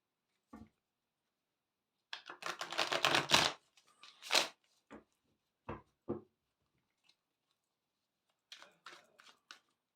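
Quiet bursts of tarot cards being riffled and shuffled, a longer flurry in the middle and a few soft taps and flicks around it.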